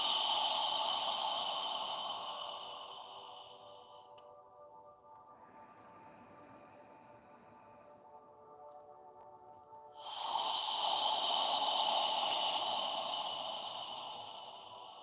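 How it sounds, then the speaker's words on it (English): Long, slow yoga exhales pass through a constricted throat, a soft rushing breath sound that fades away, pauses in near silence for several seconds, then swells again, close and even. "On the exhale, imagine you're fogging a mirror with your breath."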